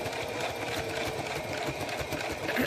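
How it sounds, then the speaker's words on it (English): A sewing machine runs a straight stitch along a zipper, a steady fast mechanical whir with rapid needle ticking that stays close and even throughout. "I'm just sewing a straight stitch as close to this as I can"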